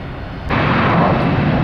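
An airplane takes off at Tampa International Airport. Its engine roar swells abruptly and then holds loud and steady as a broad, close rumble, with no talking.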